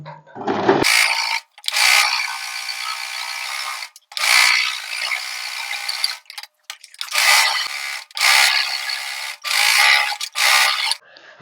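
A sewing machine stitches the side lining of a blouse together in several quick runs of whirring, clattering mechanism, each one to two seconds long, separated by short pauses, close and fairly loud with no talking.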